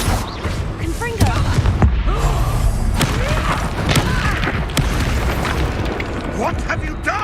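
Repeated booming blasts of the Confringo fire spell in the video game Hogwarts Legacy, dense overlapping explosions and crackling impacts rolling continuously at loud volume, mixed with game combat effects and voices.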